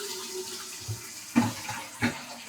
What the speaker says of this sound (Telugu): ఇడ్లీ పాత్రలో నీళ్ళు పెట్టుకున్నామండి.